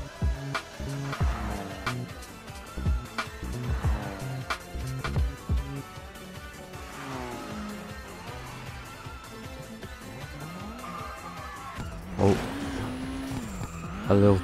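A tuned JDM race car in an anime-style racing video game roars around a track, engine revving up and down through corners with tire squeal and skids, loud and continuous with background game music.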